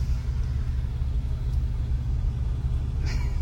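Automatic car rolling slowly on its own with no pedals pressed, a steady low engine rumble and road noise close by, with a brief brighter rustle near the end.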